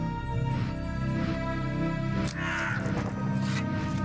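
A raven in a hidden object game gives a few caws over a continuous game music bed, with brief calls standing out near the middle and again toward the end.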